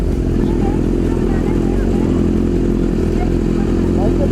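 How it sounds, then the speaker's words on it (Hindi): A motorcycle rides continuously with a steady low engine drone, close and loud, while voices talk over it throughout; the setting is a mountain ride toward Murree in Pakistan. "मोटरसाइकिल मोड़ो।"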